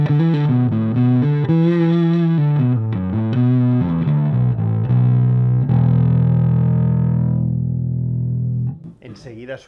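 An Orange Crush 50 guitar amp plays on its bridge pickup with the distortion blend at 50%. Gritty, sustained electric guitar notes and chords ring out loud and near, then a final chord decays before a brief noise at the end.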